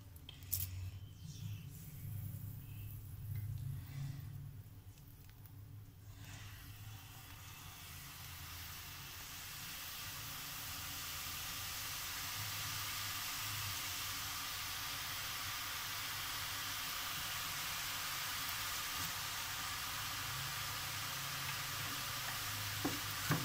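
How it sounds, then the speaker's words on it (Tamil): Pepper karasev dough pressed into hot oil sizzles and hisses steadily, starting with some clatter and handling, then settling into a loud, continuous frying hiss that lasts the whole stretch. "இதுக்குள்ளே எண்ணெய் தடவிட்டு மாவு ஃபில் பண்ணியாச்சு இப்போ நம்ம பொரிச்செடுக்கலாம்"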